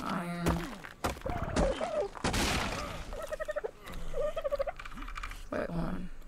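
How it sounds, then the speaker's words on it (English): A chicken in the video game ARK gives short, repeated clucks and squawks, mixed with thumps and other game noises in a busy, fairly loud scene. "Oh, yeah, that's a chicken."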